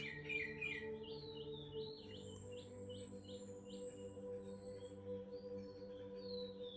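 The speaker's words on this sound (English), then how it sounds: "I still get a smile on my face when I hear that little bird chirping right on cue" A small bird chirps in quick, high repeated notes over a steady low hum, with no voices.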